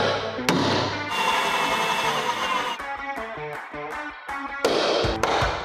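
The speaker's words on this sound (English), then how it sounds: "let's drill through a gazillion rivets." A drill whines in repeated short bursts with brief pauses between, drilling through rivets on a wrecked Porsche 911 Turbo, close by and fairly loud, without speech.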